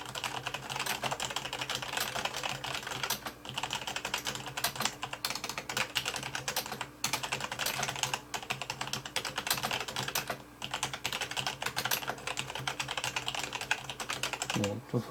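Continuous typing on a Logitech G810 Orion Spectrum mechanical keyboard, fast clicky keystrokes in an uneven rhythm, close and moderately quiet, with faint speech at times.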